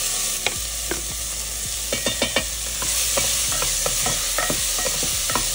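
Hot oil sizzles steadily in a pressure cooker as cumin seeds crackle, with scattered sharp pops and a few clinks of a spoon stirring; no voices.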